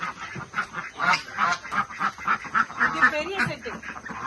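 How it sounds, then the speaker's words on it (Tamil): Two small ducks call in a run of rhythmic honking quacks close by, while a person speaks over them. "இது 2 சின்ன வாத்து, அது தனியா போட்டுருக்குறோம்."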